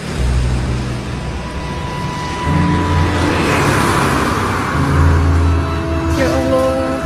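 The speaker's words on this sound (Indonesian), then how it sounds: "ketika ada sebuah mobil yang melewatinya" A car rolls past close by, a rising and falling engine and tyre rush over a few seconds, with faint voices and background noise underneath.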